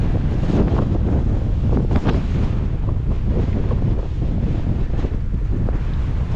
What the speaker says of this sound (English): Oh yeah, this is real fast wind.